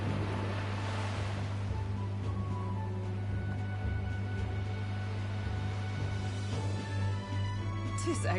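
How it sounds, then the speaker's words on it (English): Ocean waves wash steadily around a sailing ship in the video game Metaphor ReFantazio near Vega Island, a continuous surf and water rush under a low engine-like hum, with brief louder splashes near the end. "I'll get us through these waves on Vega Island gently as can be."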